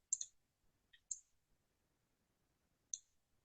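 A computer mouse gives three or four crisp, quiet clicks, spaced irregularly with silence between them, heard close up.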